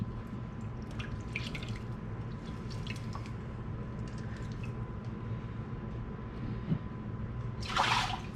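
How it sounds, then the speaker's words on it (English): Water dripping and splashing while homemade butter is squeezed in cold water, scattered small drips over a low steady hum, with a louder wet splash near the end. "Squeeze it out of your butter until your water's not cloudy."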